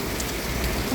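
Rain pours down outdoors in a steady, hissing wash of drops striking surfaces, close and fairly loud, with no speech over it.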